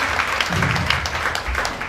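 Congregation clapping during a church service, dense steady applause under a low murmur of voices and background sound, continuing evenly throughout.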